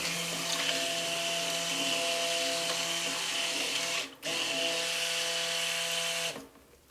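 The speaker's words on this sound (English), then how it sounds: "now I'll stick blend it" A stick blender mixing soap batter for a pineapple and pink berries soap hums steadily with a wobbly motor, briefly cutting out near the middle, then stopping at the end.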